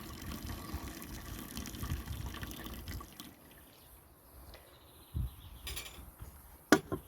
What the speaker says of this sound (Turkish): Şöyle yavaş yavaş süzdürelim.